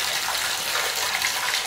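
Hot water gushing from a bath tap into a bathtub for a bubble bath, a steady close rushing stream that stays loud and unbroken throughout.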